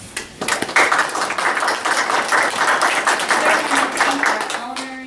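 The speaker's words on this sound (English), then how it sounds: "Let's give ourselves a round of applause." A crowd claps steadily for several seconds, a dense patter of applause that tapers off at the end.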